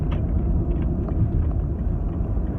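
Car cruising in busy traffic while changing lanes, a continuous low engine and road rumble heard from inside, steady and moderately loud, no voices.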